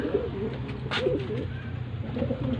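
Pet pigeons in a covered loft just after a storm, giving soft, close, repeated throaty coos over a low background hum with a faint voice.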